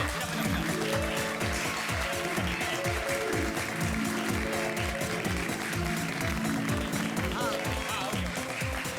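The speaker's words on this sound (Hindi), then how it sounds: "मैं तुम्हारा दिल रखने के लिए हम लोग एडवांस में ही तालियां बजा देते हैं" A group claps hands in a steady, continuous patter while voices talk loudly over it.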